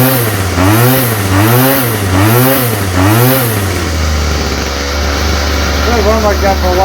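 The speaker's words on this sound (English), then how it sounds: "Problem is it won't idle, so, well, I got the idle turned up now" A Stihl FS45 string trimmer that won't idle runs with its idle turned up, its small two-stroke engine revving and dropping back in a repeated rhythm, then settling into a steadier loud drone, close by.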